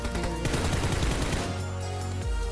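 Rapid video game gunfire, dense bursts of automatic shots fired close and loud, fading into a lower rumble near the end.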